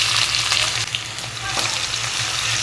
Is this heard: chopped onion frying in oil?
yes